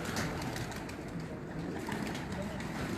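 Pigeons on a Faisalabad rooftop give soft cooing calls over a steady, dense outdoor background, with some talking underneath.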